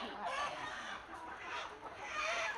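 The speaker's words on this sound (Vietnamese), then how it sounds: "Đấy, thợ vào bắt gà như kiểu là đi hội ấy." Chickens cluck and squawk in a busy, continuous chorus as workers catch them on a farm, close and fairly loud.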